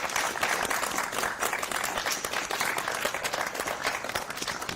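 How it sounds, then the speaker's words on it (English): Conference audience applauding the panelists, a dense round of clapping from a moderate-sized crowd in a room, steady and fairly loud, with no speech over it. "can the group that's assembled just quick give a round of applause for our panelists?"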